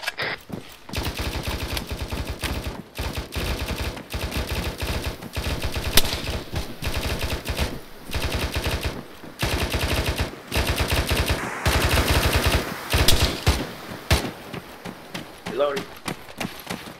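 Rapid bursts of automatic gunfire in the video game ARMA 3 crackle in long volleys with brief gaps, loud and close, while voices talk over the shooting.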